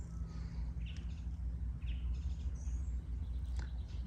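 Birds chirp in short, scattered calls along a lily-covered river on the Norfolk Broads, thin tweets over a steady low hum from a small boat.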